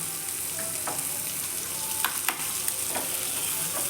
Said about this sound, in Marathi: एक कांदा, मिरची 3 ते 4 मिरची आणि हा तडका असा तो द्यायचा